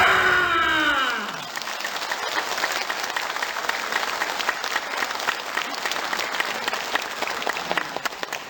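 Audience applause breaks out at an organic farming lecture at an academy in Mungyeong, a dense, steady clapping from a large crowd that follows the tail of a spoken line and continues evenly for several seconds.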